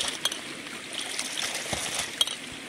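Water rushes steadily through a ram pump as it is shut off at its intake valve handle, with a few sharp metallic clinks and knocks over the continuous hiss of flow.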